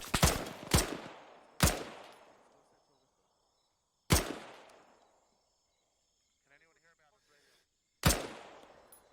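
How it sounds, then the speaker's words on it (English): Gunfire in the military shooter Arma 3: five sharp, loud shots, two quick ones then spaced single reports, each with a long decaying echo, with a brief faint chirping between them. "Stop shooting."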